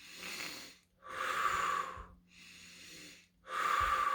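Slow, deep breathing during seated meditation, four long breaths alternating between inhale and exhale with short pauses between them, close and clear with an airy, slightly wheezy texture and no talk.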